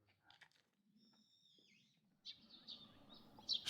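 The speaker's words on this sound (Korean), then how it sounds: "새소리" Birds sing in a garden early in the morning, a few faint high chirps and whistles at first, then fuller, louder song building toward the end over soft outdoor background.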